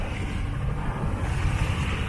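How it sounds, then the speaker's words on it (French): Sailboat engine running steadily just after start-up, a continuous low throbbing drone close by under wind and water noise, heard while cruising along the south coast of Sardinia at night. "On vient de démarrer le moteur."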